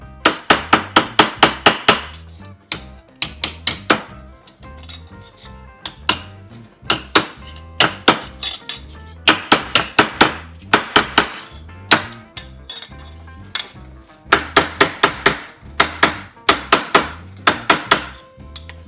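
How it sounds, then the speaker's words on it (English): Bursts of rapid metallic hammer strikes ring out against a dolly while shaping sheet metal for floor pans, sharp clanging taps in quick rhythmic runs separated by brief pauses. "a little hammer and dolly work"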